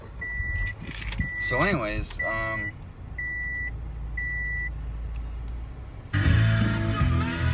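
Car starting up with a series of evenly spaced electronic chimes, keys jangling and a brief voice, then the engine catches and a louder rush of ventilation or engine noise fills the final second.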